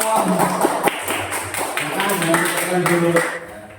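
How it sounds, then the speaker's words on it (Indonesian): Students in a classroom clap for a student group, a loose, uneven patter of hands from a small group under a background of voices, tapering off near the end. "Tepuk tangan untuk kelompok Umar bin Khattab."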